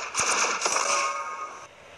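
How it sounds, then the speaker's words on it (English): Automatic gunfire in the mobile shooter game ShellFire, a quick burst of bright metallic shots with ringing clinks that fade out after a second and a half. "Now, let's try auto fire. Aim at enemies to fire automatically."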